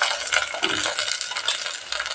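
Onion and cauliflower frying in a pan for masala rice, a loud, close sizzle with scraping stirring strokes rising and falling throughout, with no talk.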